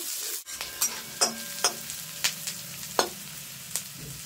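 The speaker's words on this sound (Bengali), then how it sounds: "তো দেখো পেঁয়াজ লঙ্কা রসুনটা ভাজা ভাজা করে নিয়েছি।" Onion, chilli, garlic and capsicum fry in a pan under a low, steady sizzle. A spatula strikes and scrapes the pan in a loose, repeated rhythm, with each stroke close and crisp.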